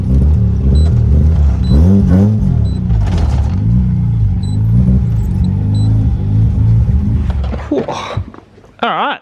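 A rotary-engined BMW E36 revs and accelerates loudly, rising and falling in pitch with a rough, labored tone from worn spark plugs, not revving out fully, then cuts back near the end.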